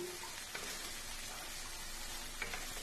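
Ground mustard and poppy seed paste with green chilli is mixed with water in a pan, giving a soft steady sizzle with a couple of light stirring taps, quiet and without speech.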